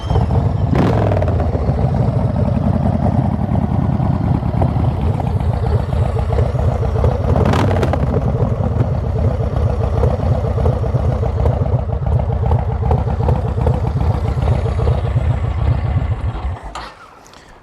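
A Yamaha XV1700 Road Star V-twin cruiser with Craftride slip-on mufflers rumbles steadily up close for most of the stretch, with a couple of throttle blips, before cutting off at the end.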